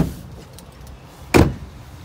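A single sharp thunk of a door shutting, the split door of a 2001 Duramax extended cab truck with leather interior and high mileage, sounds once near the middle after a faint earlier clunk, with no speech.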